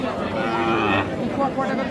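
Cows moo loudly and close at a crowded cattle market where dairy cows with calves are being sold, a long low bellow followed by a shorter call, with faint crowd chatter underneath.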